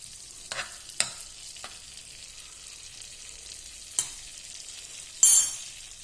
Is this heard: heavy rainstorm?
no